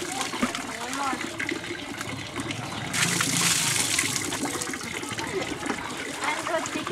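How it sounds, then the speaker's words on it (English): Water poured from a bucket during a Filipino-style bucket bath, a splashing, gushing pour that swells midway and then trickles off, close by, with voices in the background. "this here, my friends, is a Filipino style bath."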